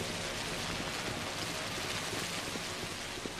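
Steady rain falls in the video game Pathologic, a soft, even hiss of drops with no break or change.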